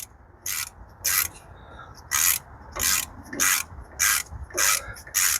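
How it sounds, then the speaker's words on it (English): Ratchet wrench backing out an 8mm bolt on the front hub of a 2019 Ford F250 diesel, a series of crisp, close clicking bursts in a steady on-off rhythm with brief pauses between strokes. "I'm going to have to unbolt this, which is again that 8mm"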